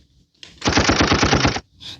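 A burst of machine-gun fire used as a comedic sound effect, a rapid string of about a dozen loud, evenly spaced shots lasting roughly a second, with a short gap then a brief trailing noise.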